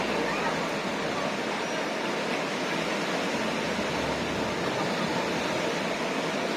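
Strong ocean waves crash onto a shore in a loud, unbroken roar of surf that fills the whole stretch with dense, steady rushing noise.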